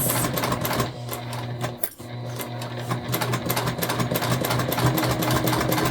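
A sewing machine stitches a self-drafted tote bag with no thick seams, running loud and close in a fast steady whir with a short pause around the middle before resuming.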